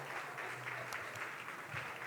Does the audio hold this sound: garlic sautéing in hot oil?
no